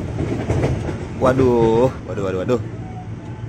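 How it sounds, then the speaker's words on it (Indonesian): An electric KRL commuter train is heard at Lenteng Agung station in Jakarta, with a rising and falling rail whine over a rumbling background. A voice briefly exclaims over the train. "kita sampai di stasiun Lenteng Agung dan ketemu lagi sama KRL yang ketahan tujuan Bogor"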